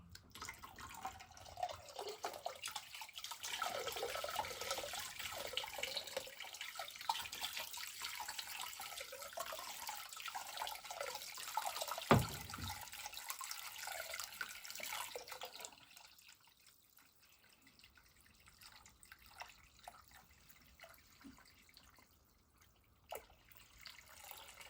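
Warm tap water runs steadily into a tub for about fifteen seconds, then the pour fades to softer trickling and drips near the end, close and with no talking.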